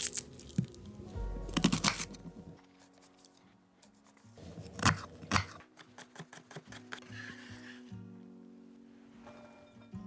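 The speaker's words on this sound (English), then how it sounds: "You also need to dice 1 small shallot." A knife dicing a small shallot, with irregular bursts of crisp cutting and crunching, scattered taps and pauses between them, close and fairly quiet with no talk.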